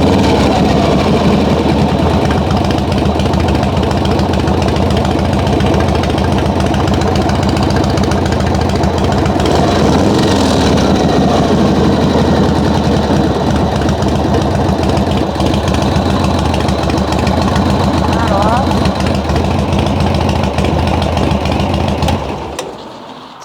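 A 1978 Harley-Davidson FX/FL Shovelhead motorcycle engine idles loudly and steadily up close with a lumpy, knocking rhythm, then cuts out at the very end as it is shut down.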